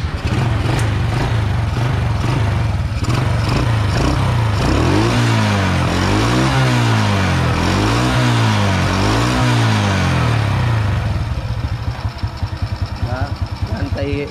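A Honda motorcycle engine fitted with a Dream Thai 125 carburetor runs steadily at close range, a continuous low throbbing hum with a few gentle throttle swells in the middle before settling back to a smooth idle.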